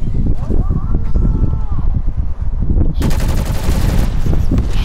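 A submachine gun fires in a zombies video game, a rapid burst of automatic shots that swells into a dense, loud volley in the second half, with players' voices and game noise underneath.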